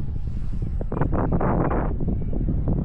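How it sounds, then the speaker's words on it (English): Strong wind buffets the microphone in loud, rough gusts, surging hardest in the middle before easing slightly. "it's really windy"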